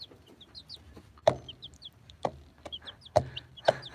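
Live baby chicks chirp with high, short peeping calls scattered throughout, alongside several sharp knocks or taps, close and fairly quiet.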